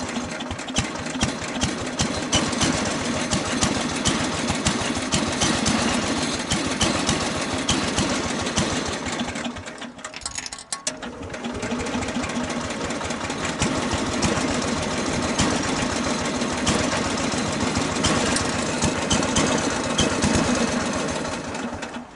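A Bolens Husky 1050 garden tractor engine runs steadily close by, with a dense, rapid rattling chug, a brief dip partway through as the choke and throttle are adjusted, then continuing at a constant loud idle.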